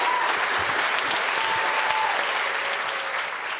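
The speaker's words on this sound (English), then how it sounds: "Veer, big round of applause." Audience applause at a Royal Institution Christmas lecture on food, a dense, steady clapping from a large hall crowd that holds throughout and tapers slightly at the end.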